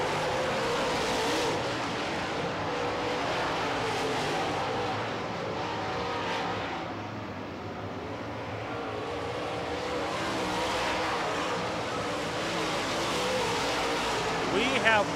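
Late model race cars roar around the track during a feature race, a steady, loud wash of engine noise that swells and fades slightly as the cars pass, with an announcer talking over it.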